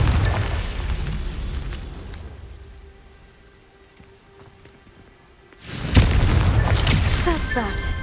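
Confringo blast in Hogwarts Legacy: a heavy booming burst with a rumbling decay that fades into a quiet stretch, then a second loud eruption of crackling debris and rumble.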